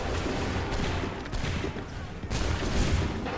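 Ragged musket volleys from soldiers at the Battle of Bunker Hill in Assassin's Creed 3 Remastered, several loud overlapping cracks spread across the stretch within a constant roar of battle noise.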